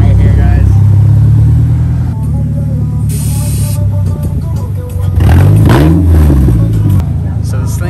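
A Polaris Slingshot three-wheeler with a single rear wheel pulls in on a South Beach, Miami street, its engine rumbling low and then revving up loudly and close mid-way, with voices talking over it.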